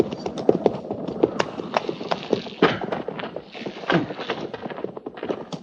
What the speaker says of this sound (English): Jenkins, get that horse and put him with the pack mules.